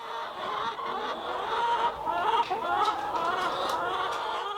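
Marans and Isa Brown hens clucking and murmuring in a busy coop on a farm in Martinique, a steady overlapping chatter of soft calls with occasional sharper squawks.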